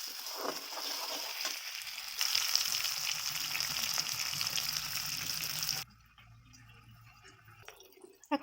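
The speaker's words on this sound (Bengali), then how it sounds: "এখন পেঁয়াজ আর লঙ্কাটা একটু ভাজা ভাজা হয়ে গেছে" Onion and sliced green chillies frying in oil, a steady bright sizzle that carries for most of the stretch before dropping away to near quiet, with faint clinks and drips near the end.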